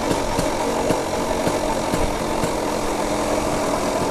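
Small single-cylinder engine of a BSA Bantam 175 motorcycle running on a road ride, with a steady, dense mechanical drone and regular thumping pulses, close and fairly loud, wind noise mixed in and no talking.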